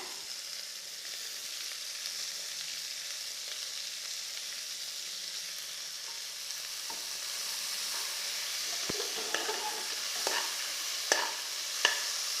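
Onions and tomatoes with coriander leaves sautéing in oil in a pan, a soft continuous sizzle with a few spoon scrapes and taps toward the end, no talking.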